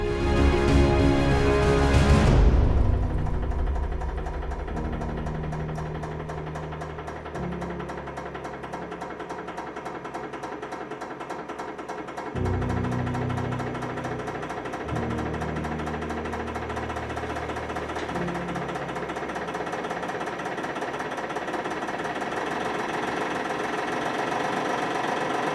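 A 500-ton hydraulic press runs with a steady loud mechanical drone and buzzing hum, shifting pitch in stages as it works against a Soviet hydraulic jack, continuous with no talking.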